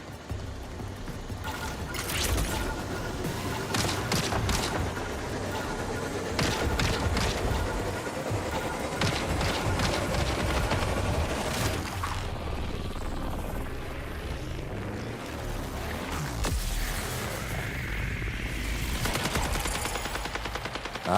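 Rapid bursts of video game gunfire with a helicopter-like drone, loud and continuous over about twenty seconds, the shots clustering in dense volleys.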